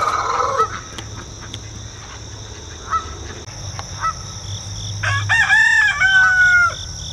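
Backyard chickens cluck and call nearby while a rooster lets out a loud, drawn-out crow near the end, with quieter bird sounds and a low background rumble before it.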